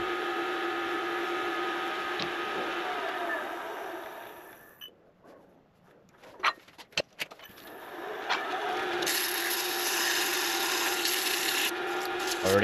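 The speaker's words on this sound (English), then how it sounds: "Already moving into the sanding." Sandpaper rubbing along the grain of fiddleback-figured wood on a bolt-action build, a steady close rasping that breaks off midway for a few scattered knocks, then resumes at full strength.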